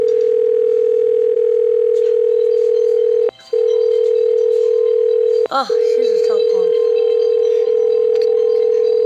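A steady telephone dial tone drones loudly and continuously inside The Return to Freddy's horror game, dropping out briefly twice, with a short burst of other sounds and a brief spoken remark partway through.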